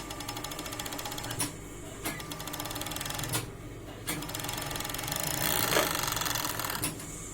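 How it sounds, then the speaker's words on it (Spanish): A sewing machine hums in a steady, continuous run while double topstitching the crotch of a pair of denim jeans during a repair. It sounds fairly quiet and close, with faint clicks from the mechanism. "Y más ahora que le vamos a hacer doble pespunte. Estoy dando la vuelta a toda la media luna que acabamos de coser."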